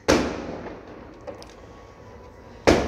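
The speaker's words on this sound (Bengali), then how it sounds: "বিয়ে বাড়ি আছে না, ওই জন্য বোম ফাটছে" Two sharp firecracker bangs from a nearby wedding celebration, one at the start and one near the end, with a fainter pop in between over steady background noise.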